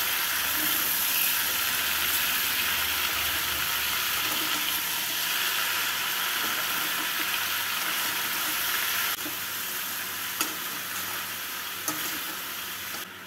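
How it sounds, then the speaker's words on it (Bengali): Vegetables stirred with spices in a hot pan for a mixed-vegetable curry with drumsticks and lentil dumplings, giving a steady, loud sizzle and frying hiss with scraping stirs throughout, no voices. "মশলা দিয়ে সবজিগুলোকে নাড়াচাড়া করে নেব"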